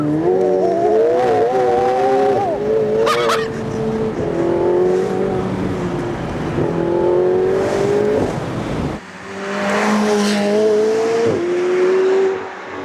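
A McLaren 720S revs hard with repeated rising engine pulls and gear shifts while its tires squeal in wheelspin, loud and close throughout with a brief drop in the middle.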